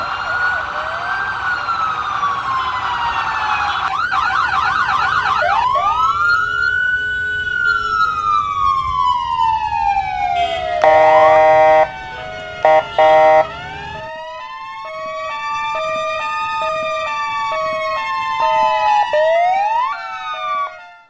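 Ambulance siren on a road, loud and close, sweeping up and down in long wails, then switching to rapid alternating yelp and hi-lo patterns over traffic rumble, no talk.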